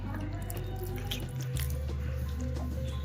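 Water pours into a sago sharbat mixture with almonds and sugar in a home kitchen, a steady close trickling and dripping stream running throughout.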